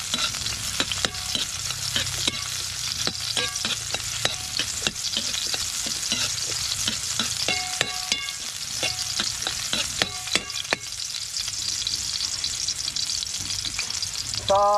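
Onion sautéing in a pan for a fern and sardine dish, a loud continuous sizzle broken by rapid, repeated scraping and clinking strokes of a utensil, with no talking.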